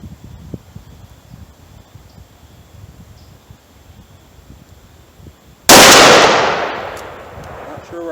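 A single sharp, loud magnum shot from a Taurus 605 short-barrel revolver rings out after several quiet seconds of faint outdoor ambience, its blast decaying over about two seconds before a few small rustles follow.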